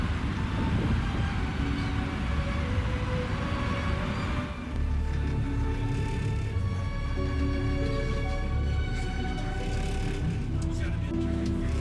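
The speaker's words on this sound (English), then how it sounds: "The noise you hear is squeaky tram we're all in" A tram in Quebec rumbles along with continuous high metallic squealing from its wheels, loud and close, the squeal rising and wavering throughout over the low rumble.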